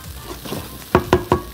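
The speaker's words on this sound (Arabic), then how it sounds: "وهبتدي اعصجها مع البصل والثوم" Minced meat sautés with onion and garlic in a pan, a soft steady sizzle broken near the end by three sharp, evenly spaced clanks of a utensil against the pan, close up with no talk.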